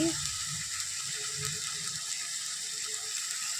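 A spice mixture fries in a hot pan for aloo dum, giving a steady, close sizzling hiss that runs unbroken throughout with a few faint low knocks near the start.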